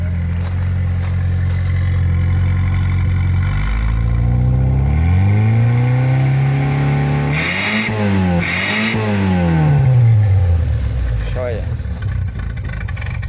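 A 1980 Fiat 147 engine runs steadily, then is revved up and down several times with rising and falling pitch, close and loud, while people talk over it.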